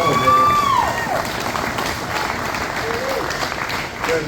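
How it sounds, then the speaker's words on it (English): Applause from the crowd at a hall of fame ceremony at New Castle, steady and fairly loud throughout, with a whistle or cheer cutting through near the start and voices mixed into the clapping. "About that round of applause for Mike and Estina here"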